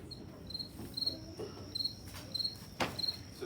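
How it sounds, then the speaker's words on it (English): A cricket stridulates by rubbing a comb-like wing against a hard wing edge, giving repeated short high chirps in a steady rhythm, moderately close over faint background noise. "that cricket is taking its wings and it's doing this with its wings, and the wings got a comb-like surface on one wing and a hard surface"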